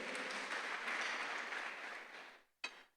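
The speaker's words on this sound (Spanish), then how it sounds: "Dale una gran ofrenda de palmas a nuestro gran Rey de Reyes" A church congregation breaks into sustained applause, a dense wash of many hands clapping together that fades out, followed by one sharp single clap at the end.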